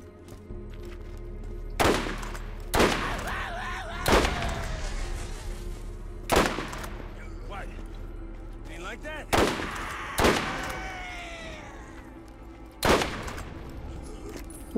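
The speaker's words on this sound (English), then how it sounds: "Ooh, he had a rocket launcher." Weapon fire in the video game Borderlands, with a rocket launcher among the guns: about eight sharp, loud blasts at irregular intervals over a steady background hum, followed by ringing and whistling tails.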